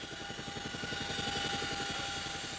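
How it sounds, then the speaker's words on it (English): A relief helicopter drones steadily over Kashmir villages after the 2005 earthquake, with a rapid, even thump of rotor blades, heard at a moderate distance and fairly quiet. "Helicopters drop food to villages"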